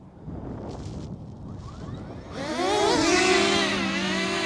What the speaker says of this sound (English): I'm going to tap the automatic takeoff.